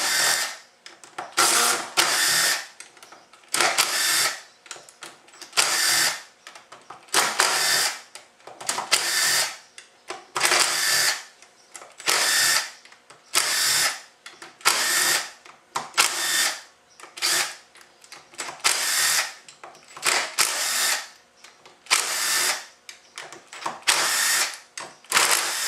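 Power drill backing out many T25 bolts from a 45RFE transmission during a teardown, in a long series of loud, evenly spaced whirring bursts of about a second each, separated by short pauses.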